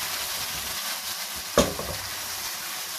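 Chicken masala with garam masala powder stirred in a cooker pot for chicken karahi, a steady soft sizzle broken by one sharp spoon knock against the pot midway, close and without talk.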